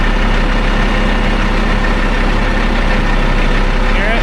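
An Oshkosh LVSR HEMTT military truck, sold as inoperable and suspected of low transmission fluid, idles in neutral with a steady, loud, low diesel rumble and faint knocking throughout, while people talk over it.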